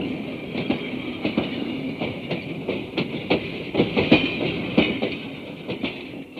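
A passenger train rolling on rails as a radio-play effect, with a steady rumble and a regular clickety-clack of wheels over rail joints, loud and close, with a thin high metallic ring and no talk.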